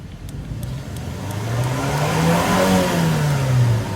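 A Toyota Fortuner engine fitted with a Dino Box Raptor electronic throttle controller revs up and holds a raised, steady drone with the throttle held, loud and close, then eases slightly near the end.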